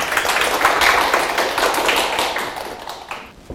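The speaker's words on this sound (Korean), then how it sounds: "예, 박수 한번 주세요." Seminar audience gives a round of applause at an exam strategy presentation, a dense burst of many hands clapping close by that fades off toward the end, with no talk over it.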